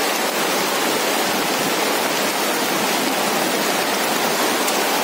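Heavy rain pours down on a hut in a forest garden, a dense, steady, loud hiss with no pauses for the full five seconds.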